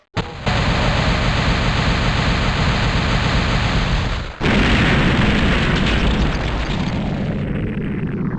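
A loud, sustained roaring explosion blast in a video game, a dense rumbling burst that cuts out briefly partway and then resumes before slowly fading, with no talking.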